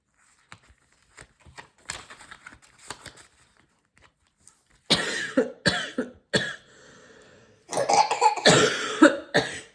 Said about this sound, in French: Tu tousses mon bébé. Tu fais comme maman.